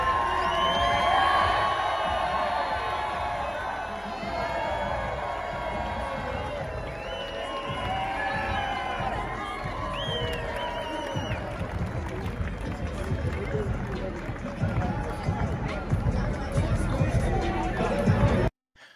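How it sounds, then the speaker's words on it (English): A Boise State basketball crowd cheering and shouting during a net-cutting celebration after a Mountain West Tournament win, a loud sustained roar of many voices with whoops. "There's the Boise State crowd there"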